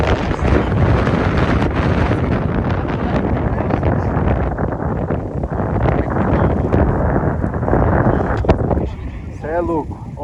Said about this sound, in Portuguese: Olha o vento que tá